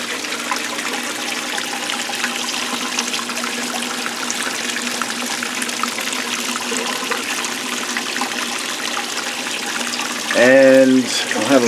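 Water streams and trickles steadily over an indoor waterfall, a continuous close wash of flow, with a brief louder voice breaking in near the end.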